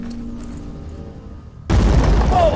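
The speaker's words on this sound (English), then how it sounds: "we'll have Omar launch a grenade at our enemy here" A grenade is launched and explodes in the tactical video game Phoenix Point. A quiet, low ambient hum comes first, then a sudden loud, heavy boom with a sustained rumbling blast.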